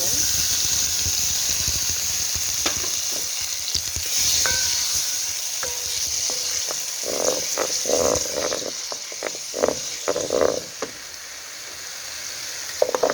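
Tomatoes drop into two to three tablespoons of hot oil for a tomato carrot soup, giving a steady sizzle with stirring clatter and scrapes, under a voice talking.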